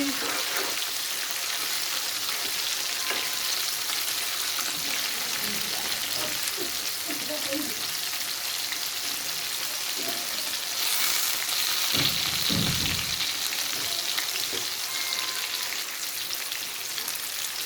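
Besan-coated Lahori-style fish fries on low heat, sending out a dense, continuous sizzle like steady rain, with occasional soft stirring knocks close by.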